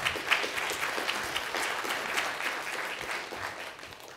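An audience at a BGP and routing operations conference gives a presenter a round of applause, steady crowd clapping of moderate loudness heard from within the hall throughout.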